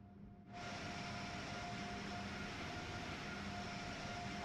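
Amtrak Acela Express train in Train Sim World 4, a steady broadband rolling rumble with a faint tonal hum that starts abruptly after a brief quieter moment and continues evenly.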